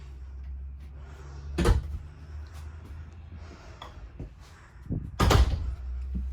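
The bedroom door of a 2021 Vibe 25RK rear-kitchen travel trailer slides and swings open, giving two soft thumps several seconds apart against quiet interior room tone, with no talk.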